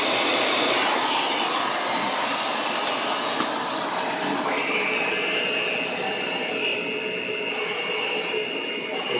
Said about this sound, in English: here's the common vacuum sold today. It's the Shark Professional.